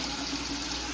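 Water drains steadily through a hose from an electric water heater at a mini golf course, making a continuous close rushing hiss with no pauses.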